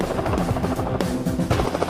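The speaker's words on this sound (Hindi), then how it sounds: "मेरा हेलीकॉप्टर तो चला गया है" Rotor blades of a helicopter beat loudly and rhythmically as the aircraft flies off, a close, steady chopping throughout.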